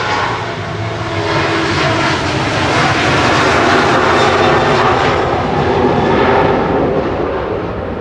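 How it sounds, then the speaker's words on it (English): A Ryanair Boeing 737-800 jet at Manchester Airport roars loud and steady, a broad unbroken engine rush with no talk over it. "Our next is Ryanair to Krakow. SPRNK, flight 2141, 737-800 Boeing."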